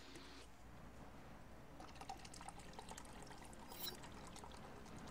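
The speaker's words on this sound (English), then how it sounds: "It's just me pouring coffee into coffee." Coffee poured into a cup, a faint steady liquid trickle with soft splashing that swells slightly near the end, quiet and close with no voices.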